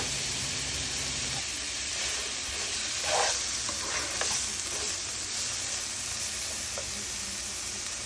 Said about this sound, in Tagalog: magigisa na ako ngayon ng bawang para ma-start ko na yung pagluto ng pork stew